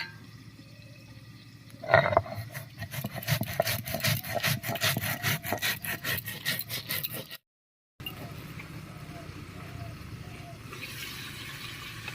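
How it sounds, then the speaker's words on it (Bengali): Poppy seeds and black mustard seeds ground together into a spice paste, a steady rough rubbing and scraping at close range that starts abruptly, runs for several seconds, breaks briefly, then continues more softly. "মশলার মধ্যে আমি নিয়েছি এক চামচ মতো পোস্ত আর নিয়েছি এক চামচ কালো সর্ষে একসঙ্গে করে বেটে নেব"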